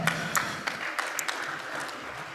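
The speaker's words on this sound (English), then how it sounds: "Please put your hands together for her." An audience at a social impact summit breaks into scattered, fairly faint applause, individual claps popping out irregularly against a light room hum.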